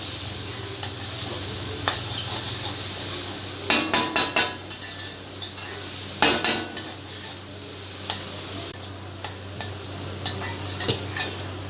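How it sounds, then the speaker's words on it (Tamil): Egg fried rice stirred in a pan, with a spatula clanking and scraping against metal in irregular clusters of sharp hits over a faint sizzle, close by and without talk. "நல்லா கலக்கி விட்டுருவோம்"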